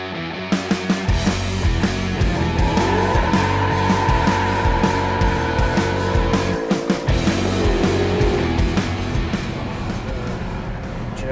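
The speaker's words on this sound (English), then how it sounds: "I think it's time for us to take this for a drive on our favorite back road." Ford F-150 pickup truck driving along a back road, its engine note loud and steady throughout with repeated bumps and surges and some shifting tones, with no talk over it.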